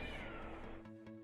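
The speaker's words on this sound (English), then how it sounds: "I hope that you're not hearing those cats." A cat outside gives a drawn-out wailing meow that fades away, faint and distant, with no one talking.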